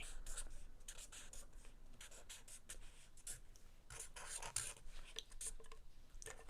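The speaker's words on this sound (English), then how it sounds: "You can go on ahead and write it in there." A pen writes on paper, heard as a continuous soft scratching with quick strokes and taps, very close and quiet, without talk.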